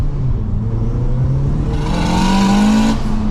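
A 500bhp Honda Civic FN2 Type R accelerates hard during an informal street race, its loud, close engine note climbing steadily in pitch with no talking.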